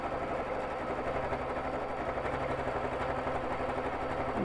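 A Babylock Jazz II sewing machine stitching free motion quilting with Aurifil thread, giving a soft, quick, even needle patter that runs steadily the whole time at low volume, no talking.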